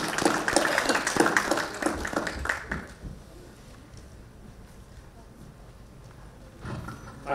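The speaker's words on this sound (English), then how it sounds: "Big round of applause for Praveen Kern, please." Audience applause at a sustainability awards ceremony, a dense burst of clapping from a crowd for nearly three seconds that quickly dies away into quiet room tone, with a brief swell of sound returning at the end.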